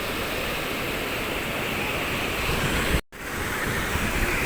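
Sea waves on a beach make a continuous loud, hissing roar of surf mixed with wind noise, broken by a brief dropout partway through.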